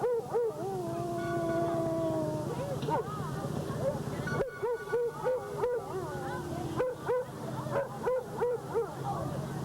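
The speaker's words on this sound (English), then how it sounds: "That dog is so loud." A dog howls loudly and long, its wavering cries rising and falling, then breaking into shorter yips and whimpers, with people talking close by over it.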